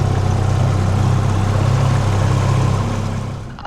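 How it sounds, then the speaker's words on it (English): A boat's engine drones steadily on a quiet wooded river in Cornwall, a loud low hum with a constant tone that fades slightly at the very end, with no talking. "Cut that engine off."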